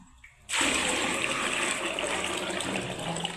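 Water gushes steadily and loudly into a large vessel of soaked tamarind for a big batch of vegetable sambar, starting abruptly and running without a break.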